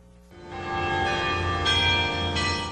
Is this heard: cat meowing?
no